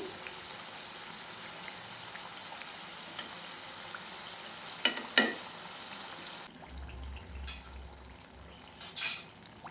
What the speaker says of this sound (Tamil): மீடியம் ஃப்ளேமில் முறுக்கு ரெண்டு பக்கமும் நல்லா வெந்து வரணும்